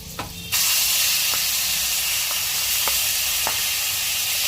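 Chicken hits hot butter and oil and sets off a sudden loud sizzle that then holds as a steady, dense hiss, with a few faint clicks of utensils under it.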